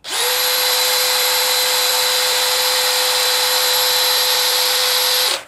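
DeWalt DCD805 cordless hammer drill spinning at speed 2, a loud steady high-pitched motor whine starting abruptly, holding level for about five seconds, then stopping, with no talk.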